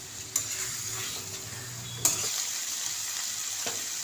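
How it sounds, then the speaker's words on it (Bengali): Pointed gourd (potol) fries with spices in a pan, giving a constant close sizzle punctuated by a few sharp clinks of a spoon stirring against the metal. "ভালো করে পটলের সাথে মশলাগুলো কষে নিতে হবে যতক্ষণ না পটলটা নরম হয়ে আসে"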